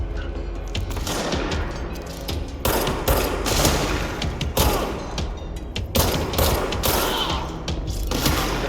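Gunfire from the video game Control comes as loud bursts of shots and booming blasts, closely spaced and repeated throughout, with dense mechanical clatter between volleys.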